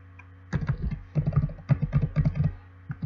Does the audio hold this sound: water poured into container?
no